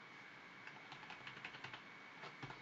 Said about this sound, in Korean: 컨트롤 닷 누르고 엔터, 컨트롤 엔터, 컨트롤 닷 엔터